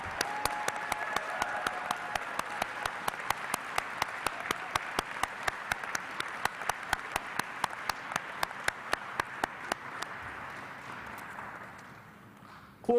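An audience at a naturalization ceremony applauds, a dense crowd of clapping with sharp regular claps standing out, sustained for several seconds before tapering off.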